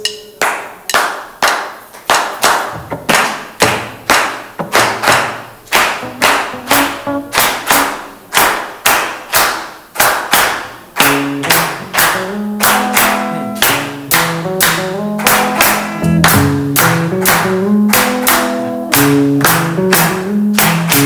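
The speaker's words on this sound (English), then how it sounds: "And then they do this particular clap that goes like this." A congregation claps in a loud, steady, patterned rhythm. Tuneful music swells in beneath the clapping about halfway through.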